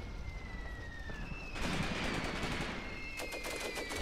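Distant gunfire and artillery rumble in the World War II tactics game Graviteam Tactics: Mius Front, with bursts of rattling machine-gun fire and a rising tonal whine, fairly faint and without talk.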